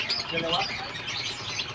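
Pet birds chirp and tweet in a steady, busy chorus at close to moderate distance, bright calls layered over a continuous background wash.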